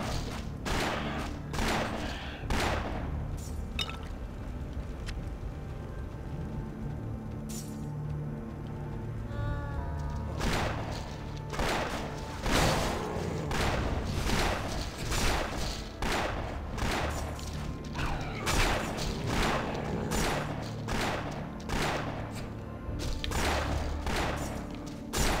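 Rapid weapon shots fire in bursts in the action video game Torchlight, a long run of sharp percussive blasts and thuds with short pauses between volleys, loud and close, with a few quieter gaps.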